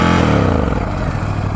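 A Ducati Scrambler 1100 motorcycle engine runs loud and close, a deep throbbing rumble with a steady pulse that shifts slightly in pitch. No one speaks over it.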